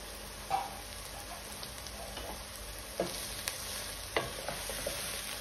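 Vegetables and shredded carrots stir-fry in a pan for chicken schezwan rice, giving a steady close sizzle broken by a few sharp spatula clicks against the pan.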